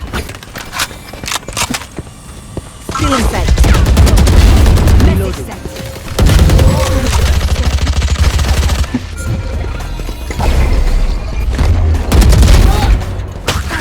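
Gunfire in the video game Valorant: loud bursts of rapid automatic shots and heavy booms in several sustained volleys, with a voice talking over parts of it.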